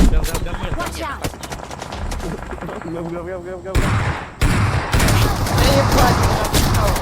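Bursts of rapid automatic gunfire from an AK rifle in PUBG Mobile, loud and sustained, mixed with other shots and effects, with people talking over parts of it.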